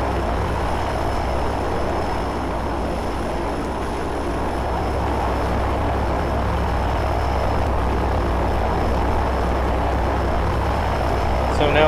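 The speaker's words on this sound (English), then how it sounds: "Now the plane will take off with four humans and one charger." In the Left 4 Dead 2 video game, a propeller plane takes off with a steady, loud engine drone and broadband rumble that hold evenly throughout, ending with a faint sharp click.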